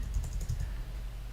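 Typing on a computer keyboard to enter kanji readings, a short run of soft, quick key clicks close by, with no voices.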